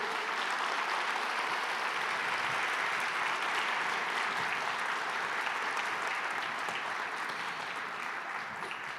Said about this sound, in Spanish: Dele un aplauso generoso.